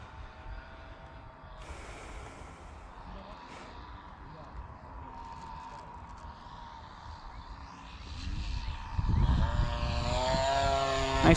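FMS Pitts 1400mm RC model biplane flying at a field with friends, its propeller drone rising and sweeping louder toward the end as it nears, with voices chatting over it.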